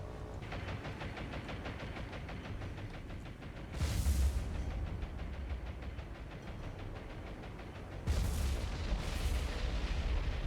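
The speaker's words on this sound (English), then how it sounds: "I just had all my fighters drop their bombs." Fighter planes drop bombs in the naval warfare game War on the Sea, with a continuous rumbling drone of engines broken by two heavy bursts of explosions, one near the middle and a double blast near the end.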